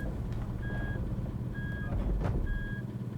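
In the Gitan Simulator video game, a truck's reversing alarm sounds three steady, evenly spaced beeps over a low, rumbling engine, clear and near, with no talk.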